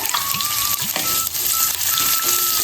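Green chillies and softened onions frying in oil in a pot for capsicum rice, a steady close sizzle with a few stirring scrapes, no talking.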